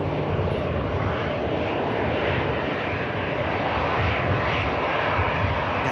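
A Virgin Atlantic airliner taxis at an airport, its engines giving a steady, loud, broadband roar that holds constant throughout with no voices present.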